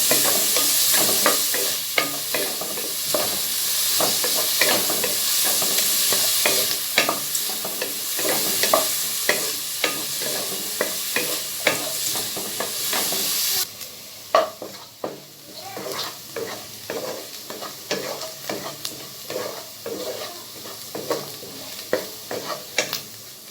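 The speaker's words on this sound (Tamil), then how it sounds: "நல்லா அந்த கோல்டன் ப்ரௌனிஷாக ஆகிற வரைக்கும் நல்லா வதக்கி எடுத்துக்கலாம்" Ingredients for a Chettinad mutton curry sizzle steadily in a pan while a spatula scrapes and stirs in rapid repeated strokes. The frying is loud and continuous, then drops somewhat quieter partway through as stirring carries on.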